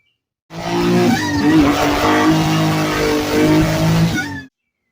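A Suzuki Vitara that has sat for 13 years cranks and fires up, its engine catching and revving loud and close for about four seconds before cutting off.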